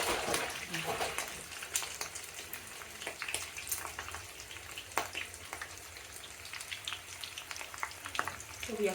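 Kebabs frying slowly in a pan over low heat, giving a steady soft sizzle with scattered crackles and pops throughout, fairly quiet and close.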